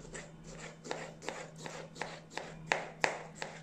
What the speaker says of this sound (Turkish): Şöyle zaten küçük küçük doğruyorum.